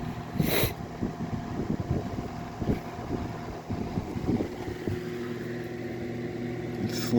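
A Zero 12-inch box fan hums through a cold start, a steady low motor drone with tonal whine, joined by intermittent knocks and rustling handling noise close by.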